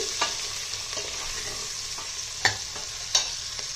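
Broad bean seeds fry in a pan alongside chopped vegetables with a soft, steady sizzle. A few distinct scraping stirs stand out, and no one speaks.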